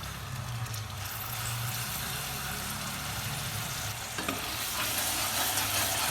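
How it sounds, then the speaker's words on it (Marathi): Onion and ginger-garlic-coriander paste fry in a pan for a chicken dish, a steady close sizzle with occasional stirring scrapes, with no talk over it. "कांदा चांगला असं परतून घ्यायचा मध्ये कांदा चांगला परतला आहे हे बघा ही लसणाची ना अद्रकीची आणि कोथिंबीरची मध्ये टाकून द्यायची"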